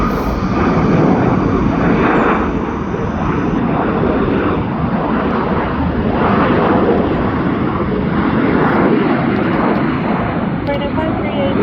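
A large airliner taking off or landing at Incheon Airport roars loudly and steadily throughout, a dense, continuous engine rumble with slight swells and no pause.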